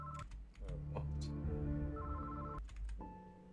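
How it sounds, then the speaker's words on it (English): A home telephone rings in a steady electronic ringtone pattern, with loud repeated tonal bursts separated by brief gaps, close and alone. "Susan's father, Joe Atkins, was at home when his phone rang."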